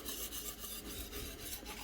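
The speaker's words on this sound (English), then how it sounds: "I'm only polishing the edge. I'm not polishing the entire blade." A knife edge being polished during sharpening gives a quiet, steady rasping rub that continues unbroken for a couple of seconds.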